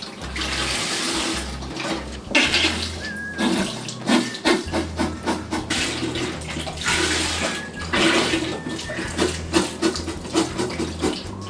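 Water gushes and splashes loudly into a turkey-brining container up close, a continuous churning pour with gurgling swells and no voices.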